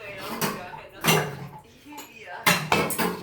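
A pot is set down onto a hot wok and covered with a lid while baking a palm-fruit cake, giving a few sharp metallic clanks and knocks spaced through a short stretch, close and fairly loud, with a voice talking between them.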